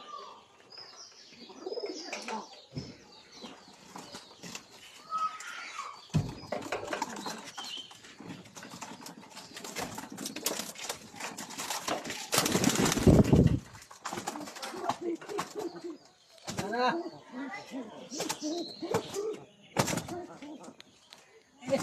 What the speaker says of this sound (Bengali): আজকে আমার কবুতরের বাচ্চা দেখাইতেছি